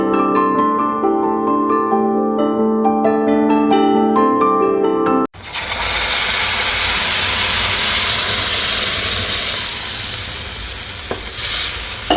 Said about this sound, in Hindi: यहाँ पे हमारी दाल में मैंने लगा दिया है तड़का